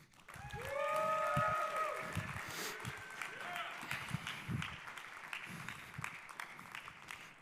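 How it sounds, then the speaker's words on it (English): A crowd breaks into sustained applause and cheering, loud and steady throughout, with a few whoops rising above the clapping. "let's give him a big round of applause."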